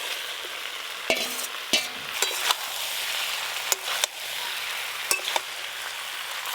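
Fried vegetables with Malabar spinach stems, beans, eggplant and spices stirred in a pan over a village kitchen fire, a continuous close sizzle with scattered sharp clinks and scrapes of the spatula, no voices.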